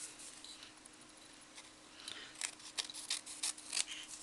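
Scissors snip through paper to cut small roof pieces for a Christmas paper house, quiet at first, then a run of close, crisp cuts in a quick irregular rhythm.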